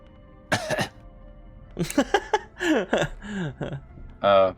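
A few sharp, close coughs and throat-clearing bursts come in quick clusters, separated by short pauses.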